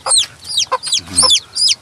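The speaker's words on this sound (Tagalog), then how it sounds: "Nakalabas na yung isang sisiw natin, oh." A newly hatched chick gives a quick run of high, sharp peeps and soft clucks, close and clear, each call brief and rising in pitch, with a faint low murmur underneath.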